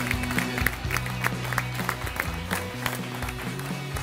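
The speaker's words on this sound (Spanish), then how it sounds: "Un aplauso les pido a todos para Julián" A studio audience claps for the champion of a televised cooking contest. The clapping is scattered and moderate, with tonal music or voices sounding underneath.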